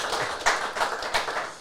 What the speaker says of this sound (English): So a round of applause for Tom, who won our TSB Fantasy League.